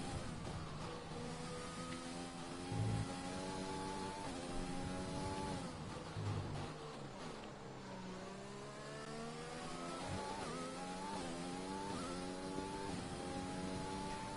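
A Formula 1 race car engine in the F1 2020 video game at the Bahrain Grand Prix drones steadily, its pitch rising and falling through gear changes and revs, continuous and fairly quiet.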